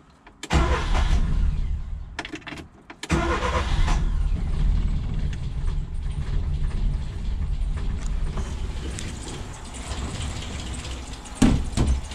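A carbureted engine with a hard-starting fault idles very low and unevenly close by, cutting out briefly near the start and then stumbling along with a rough, uneven rumble and a few sharp knocks.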